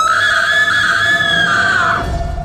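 Loud scream sound effect in a horror story: a single sustained high shriek that wavers and slides slightly downward, close and piercing, then cuts off.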